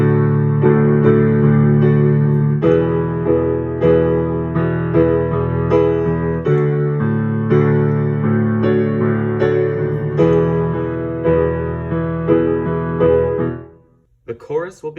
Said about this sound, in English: In two hands, that verse pattern could look and sound like this.